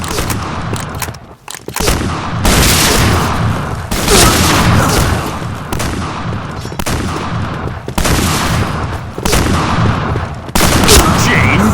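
Shotgun fire in the online shooter Point Blank, a string of loud, heavy blasts spaced a second or two apart with dense booming echoes and no talk between them.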